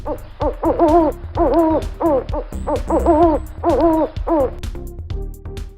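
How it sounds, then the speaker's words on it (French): An owl hooting loudly and close, a rhythmic series of repeated hoots in quick groups, clear and isolated with no other sounds. "Un hibou."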